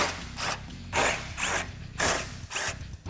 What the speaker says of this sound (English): we're going to remove 3 of these bolts and leave the 4th one in place to support the assembly